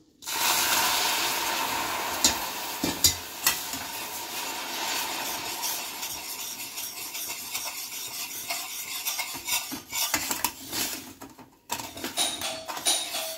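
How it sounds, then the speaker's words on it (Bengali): Milk poured into a hot pan of reddening caramelised sugar while making Bengali mishti doi, giving a loud, steady hissing sizzle that runs throughout, with a few sharp clinks and splashy bursts near the end. "এবার দুধটা ঢেলে দেবো।"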